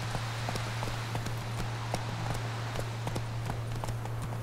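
Horse hooves clip-clop at a steady gallop in The Witcher 3: Wild Hunt, a fast run of sharp hoof strikes over a constant low hum and game ambience, with no talk.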